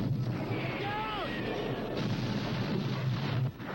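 Cannon fire rumbles through a movie trailer, a dense, loud, booming roar that holds steady before cutting off abruptly near the end.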